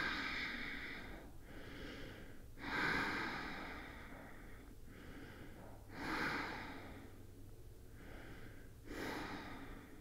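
Slow, deep breaths during a calming yoga pose, each long inhale and exhale rising and fading in a steady rhythm, close and fairly soft, with no talk.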